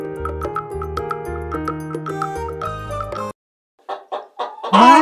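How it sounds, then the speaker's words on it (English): A hen clucks in a few short, close bursts after a bright musical jingle and a brief pause, ending in a rising, crow-like call. "Nice hen."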